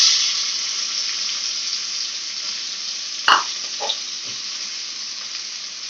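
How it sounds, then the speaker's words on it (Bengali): Chopped tomatoes drop into a pan of frying spices for a vegetarian curry, a steady loud sizzle hissing throughout with a brief clatter and a couple of soft splashes midway, no talking. "এবার কেটে রাখা টমেটো দিয়ে দিই"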